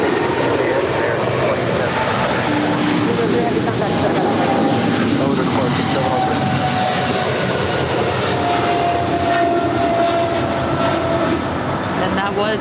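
A DHL Polar Air Cargo 703 freighter departs LAX bound for Tokyo Narita, its jet engines roaring loud and continuous throughout, with people talking over the noise.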